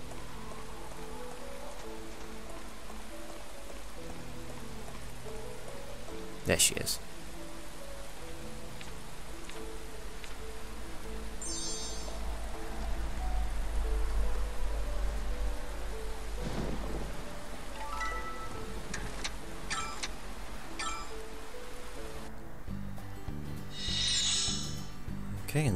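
Steady rain with thunder during a stormy street scene in the video game Atelier Sophie, with a low continuous rumble, a few sharp cracks and background game music. A voice speaks briefly near the end.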